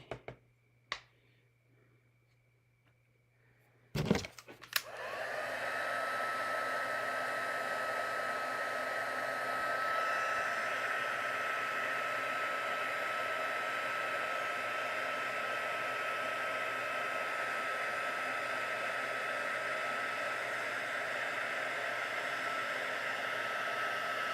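A few clicks and a switch snap are followed by a heat gun used for heat embossing while making a card, blowing with a steady, loud whooshing hum that holds for about twenty seconds, close by and with no talking.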